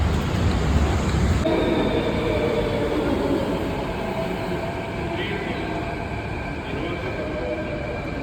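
A Mumbai metro train rumbles steadily nearby, a loud continuous roar of rolling wheels with faint tonal whines above it.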